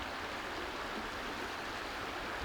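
A river flows in an outdoor elk hunting setting in Idaho, giving a steady, broadband rushing wash with no breaks. It is moderately loud and continuous, with no voices.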